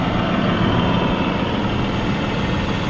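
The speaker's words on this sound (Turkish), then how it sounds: "Baya bir baya bir sessizleştirilmiş motor." A New Holland T3.70B common-rail diesel tractor, two-wheel-drive, idles steadily up close, a constant low rumble with no change in pace.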